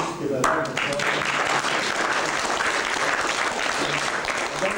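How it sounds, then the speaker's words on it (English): An audience at a reunion of the Class of 1935 in the Stotfield Hotel claps in a sustained, dense round of applause that fills the room at a steady level, with a voice faintly audible underneath. "And you just give a round of applause."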